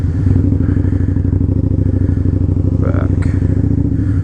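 Harley-Davidson motorcycle ridden through snow in a blizzard, its loud V-twin rumble steady and close throughout, with a few clattering thumps and a brief scrape partway through.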